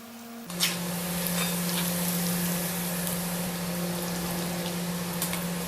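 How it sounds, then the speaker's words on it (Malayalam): Pieces of chicken fry in oil with a steady, continuous sizzle and hiss that starts abruptly and holds at an even level close up, a faint electrical hum beneath and no voices. "ഇതുപോലെ ബാക്കിയുള്ള ചിക്കനും കൂടെ ഫ്രൈ ചെയ്തെടുക്കാം."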